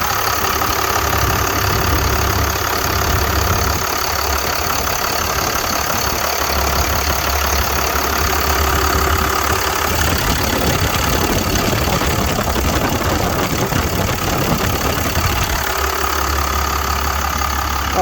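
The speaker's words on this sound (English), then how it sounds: "I'll just let you listen to the motor to begin with so then I can shut it off." Cummins diesel engine idling in a Freightliner FL50 rescue pumper truck, a steady mid-low clattering idle heard up close, running continuously with slight changes in tone partway through.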